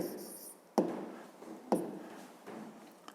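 Pen writing by hand on paper, a soft scratchy rubbing with a few sharp taps as strokes start, close and quiet, with no talking.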